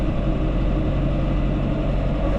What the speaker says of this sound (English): the tractor's here.